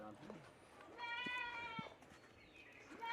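A single wavering goat bleat rises for about a second, fairly faint, while people talk nearby.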